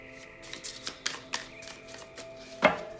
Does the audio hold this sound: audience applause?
no